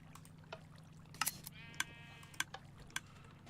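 Several short sheep bleats from a Minecraft sheep farm, spaced irregularly over a low steady hum, each one brief and fairly clear, with no talking.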